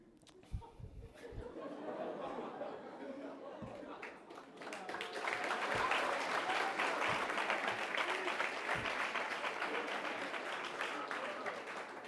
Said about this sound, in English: so I guess you guys can clap after this one.